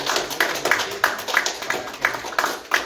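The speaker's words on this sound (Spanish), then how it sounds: "Y igual le vamos a dar un fuerte aplauso para" A congregation at a church service claps in a steady, even rhythm, with sharp, evenly spaced claps close by.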